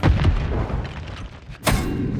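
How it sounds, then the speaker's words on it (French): A flash grenade goes off in Call of Duty Modern Warfare 3, loud and close, with a heavy booming blast followed by a sharp bright burst near the end. "Grenade flash, attention aux yeux."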